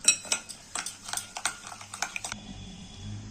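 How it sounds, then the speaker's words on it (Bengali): Sugar and two eggs being beaten by hand in a bowl for Ful Jhuri Pitha, a quick irregular clatter of whisk against the bowl, close and fairly quiet, then stopping. "চিনিটাকে ভালো করে আমি ফাটিয়ে নেব।"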